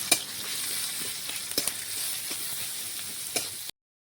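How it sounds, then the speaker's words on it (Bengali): Chopped onions sizzle in hot oil as they are stirred, a steady frying hiss broken by a few sharp scraping clicks of the spatula, close and alone, ending in abrupt silence. "পেঁয়াজগুলো নাড়াচাড়া করে বেশ কিছুক্ষণ সময় নিয়ে আমি লাল লাল একটু ভেজে নেব।"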